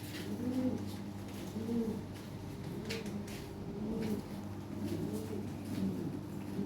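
Lahore pigeons cooing nearby, repeated soft rolling coos roughly every second over a quiet room background, with no talking.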